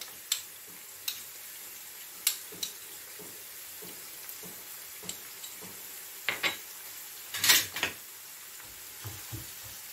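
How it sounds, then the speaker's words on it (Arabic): Onion sautéing in a pan for cannelloni lasagna with minced meat: a soft, quiet sizzle broken by sharp utensil clinks and stirring scrapes, the loudest clatter near the middle, with no voices. "ونخليو البصله تتشحر حتى تطيح شويه"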